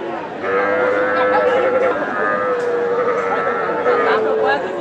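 Calves, including Sahiwal and local Deshi breeds, call out with drawn-out bleating moos amid a busy livestock market murmur at Ramganj market in Nilphamari, Bangladesh, and people talk nearby throughout.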